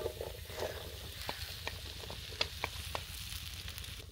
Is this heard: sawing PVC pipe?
no